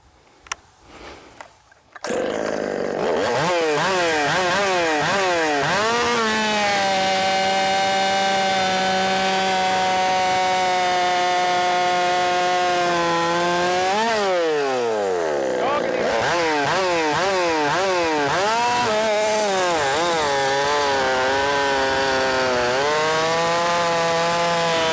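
Chainsaw with an 8-pin sprocket ripping through wood, sputtering at start and then roaring at full rev, loud and close, with a sharp dip in pitch midway as it bogs down before climbing again.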